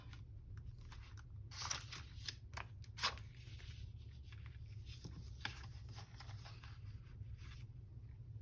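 Scissors snip through paper while a junk journal is crafted, a series of soft, close crisp cuts and rustles over a low steady hum, irregularly spaced, with no talk.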